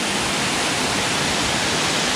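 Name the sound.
Jumog waterfall flowing on slopes of Mount Lawu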